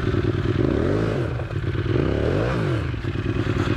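An Aprilia RXV 550 motorcycle engine revs up and down as it is ridden, loud and close, its pitch climbing and falling in repeated throttle sweeps with no talk over it.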